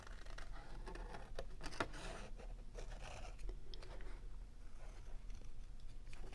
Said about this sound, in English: now I'm going to cut around the die cut with the scissors